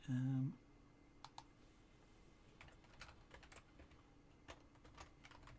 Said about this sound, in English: So I'll actually type it in chat